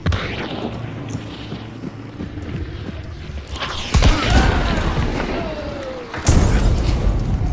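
A frag grenade goes off in Hunt: Showdown with a sudden loud boom, then a second heavy blast a couple of seconds later, both over steady windy ambience and with no talking.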